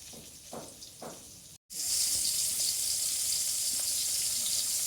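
Spiced oil is poured over salted mango pieces for achar, first a few soft knocks, then after a brief silence a loud, steady, close hiss that runs to the end.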